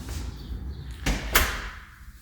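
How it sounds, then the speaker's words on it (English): An interior door in a rental home swings shut with a sharp close thud and a brief latch click, over faint room noise. "Let me go ahead and close the door here behind us."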